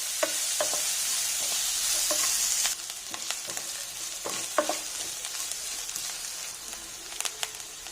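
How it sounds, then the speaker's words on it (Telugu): Chopped onions and curry leaves frying lightly in a pan, a steady close hiss with sharp stirring clacks of a spoon against the metal; the sizzle drops to a quieter crackle partway through. "కొంచెం కరివేపాకు, ఉల్లిపాయ ముక్కలు చిన్న ముక్కల కింద కట్ చేసుకుని వేసుకుంటున్నానండి"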